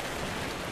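Steady rain falling in Minecraft: Story Mode, a soft continuous hiss of drops with no distinct events, moderately quiet and unbroken.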